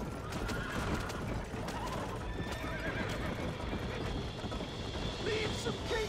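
A horse in Red Dead Redemption whinnies loudly while its hooves clip-clop steadily on the ground, close and continuous throughout.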